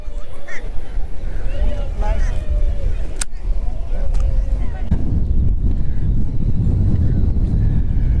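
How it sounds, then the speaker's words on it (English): Strong wind buffets the microphone on a fishing pier, a loud continuous roar and rumble beneath people talking nearby. "Wind is definitely picking up."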